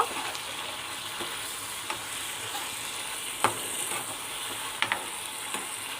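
Fish curry is stirred in a pan after hot water goes in, with a steady sizzling simmer and scattered soft scraping knocks from the spoon, all fairly quiet and without voices.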